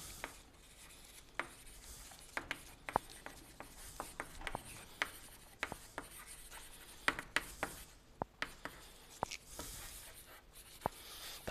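Writing on a board during a university math lecture on the supremum norm, with faint, scattered taps and short scratchy strokes in an irregular rhythm over a quiet hall background.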